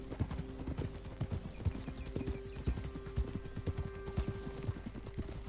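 Steady clip-clop of horse hooves from Red Dead Redemption 2, with a brisk, continuous rhythm of close, fairly loud footfalls and a faint background tone.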